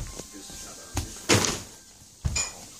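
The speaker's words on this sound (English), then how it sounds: "we'll be answering the door." A front door opens on Halloween night, with a couple of dull thunks and a louder knock-like bang midway, then another thump near the end, all fairly close against a quiet room.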